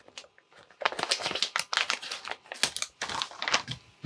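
Close plastic bag crinkling as a product is pulled from its packaging, a dense run of sharp rustles and crackles with no one speaking.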